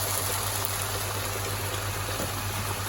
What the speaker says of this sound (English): It's bubbling away beautifully.